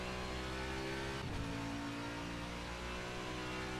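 A race car in a sim racing endurance event at Sebring drones past with a steady, loud engine note that briefly swells, continuous throughout.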